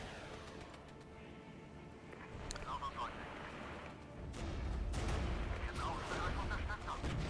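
Sustained gunfire and explosive booms aimed at a mortar unit in the war strategy game Regiments, a low rumbling barrage of distant shots that grows heavier partway through, with no talk.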